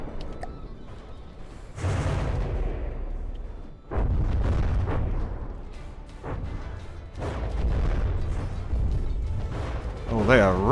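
Warship cannons from the naval combat game From the Depths, a cruiser among them, boom in repeated heavy blasts during a shoreline siege, while someone talks over the rumbling salvos.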